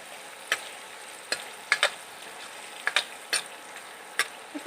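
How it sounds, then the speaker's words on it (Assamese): Onions fry with turmeric in hot oil, giving a soft, steady sizzle punctuated by repeated sharp bursts of spatter and stirring at irregular intervals, close and with no talk. "ইয়াত মই অকণমান হালধি দি পিঁয়াজখিনি ৰঙচুৱাকৈ ভাজি ল'ম।"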